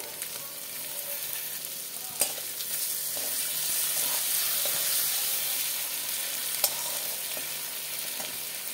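Chopped tomatoes hit a pan of frying ground spices, ginger and garlic paste, giving a steady, loud, close sizzle with a few sharp clicks of a utensil and no talking.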